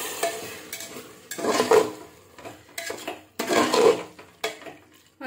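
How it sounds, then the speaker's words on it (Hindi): Spices being stirred and scraped around a cooking pot with a spoon while a little water loosens them for a black pepper chicken gravy, in several rough bursts of scraping with soft sizzling between strokes. "इन सबको अच्छे से मिक्स कर लेंगे"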